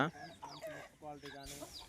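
A Thurpu-breed rooster clucks in short, choppy bursts at close range, with a brief voice and other bird calls mixed in.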